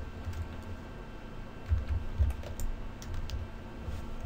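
Keys tapped on a computer keyboard at close range, a sparse run of soft clicks and a few firmer presses like the Enter key, over a quiet room hum.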